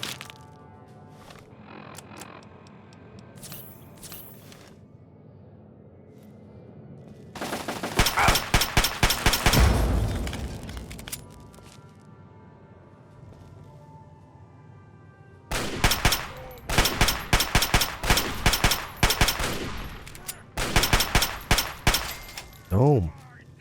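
An automated turret in Fallout 3 opens fire in long, loud machine-gun bursts, one mid-sequence and several more rapid bursts later, with someone talking quietly between them.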